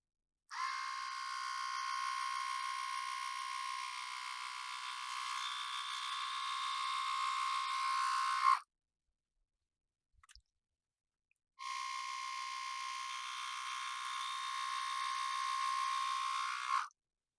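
A Split Ender split-end hair trimmer runs through hair in two steady, close buzzing stretches of about eight and five seconds, separated by a short quiet gap with a faint click.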